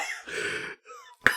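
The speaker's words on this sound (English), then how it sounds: "I have a really bad cough." A person on a podcast with a bad cough lets out a raspy, throat-clearing cough, followed by a brief pause and then a sharp, short burst at the end.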